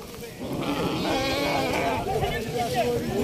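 Sheep bleat over and over at a busy open-air weekly livestock souk in Morocco, the calls layered and continuous amid a noisy crowd of people talking nearby.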